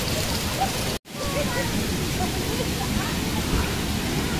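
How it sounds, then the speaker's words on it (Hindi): Heavy rain pours down at a waterfall near Nainital, a dense, steady broadband roar of water that stays loud and unbroken apart from one abrupt momentary dropout. "यहाँ पर है बहुत तेज बारिश"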